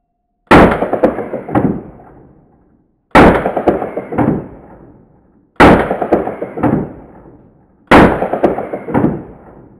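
Four loud 9 mm pistol shots fired through a HERA ARMS LINK muzzle device, spaced about two and a half seconds apart, each a sharp crack with a ringing tail and no talk between them.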